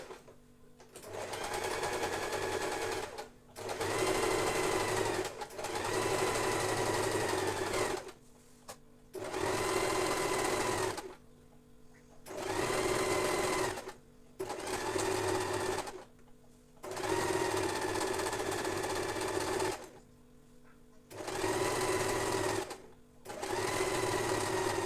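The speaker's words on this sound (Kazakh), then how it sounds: "Былай тігіп аламыз." Sewing machine stitching a reversible panama hat, running in repeated bursts of about two to three seconds separated by short pauses, close and steady with no talking.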